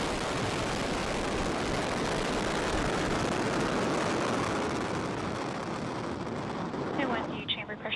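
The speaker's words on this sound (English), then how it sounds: "And liftoff of Falcon 9." A SpaceX Falcon 9 rocket lifts off from Cape Canaveral carrying Space Development Agency satellites, with a continuous, dense, crackling roar that stays loud for several seconds and thins slightly at the end.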